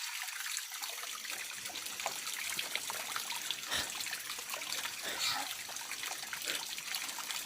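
Clean mountain spring water trickles steadily outdoors, a continuous bright babbling with small splashes throughout, fairly close and alone.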